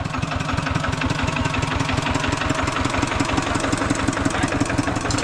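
A tractor's diesel engine idles with a steady, rapid knocking chug, close and continuous, with no voices over it.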